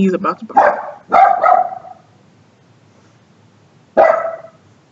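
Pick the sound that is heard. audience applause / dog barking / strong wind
dog barking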